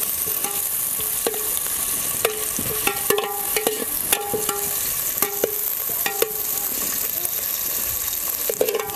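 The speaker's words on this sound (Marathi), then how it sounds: "थोडंसं आपण लालसर होईपर्यंत ते कांदा परतून घेऊया." Onion being sautéed in a pan until reddish, a constant bright sizzle with repeated tapping clinks of a spatula stirring against the metal, close and steady throughout.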